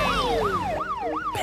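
A police car siren wails in repeated rising-and-falling sweeps, four cycles in quick succession, loud and close.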